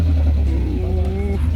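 Car passing close by at a road intersection while riding out to the Apuy route of Mount Ciremai, a loud low engine drone with a rising whine as it goes past.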